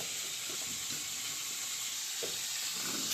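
Crabs frying one by one in hot oil for a crab and bottle gourd curry, giving a steady, close sizzling hiss throughout with faint stirring scrapes and no voices.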